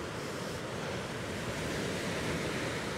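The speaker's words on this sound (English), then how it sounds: "That noise of the waves" Steady, continuous roar of ocean surf washing against a rocky shore on the Causeway Coast at night, broad and unbroken, with a hint of wind noise throughout and no voices.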